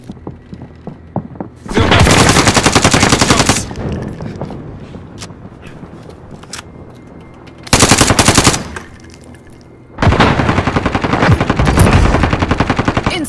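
Bursts of rapid automatic gunfire from a video game battle, loud and close, in three main volleys separated by quieter stretches with scattered single shots.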